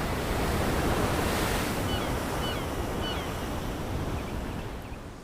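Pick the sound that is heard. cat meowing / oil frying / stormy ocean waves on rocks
stormy ocean waves on rocks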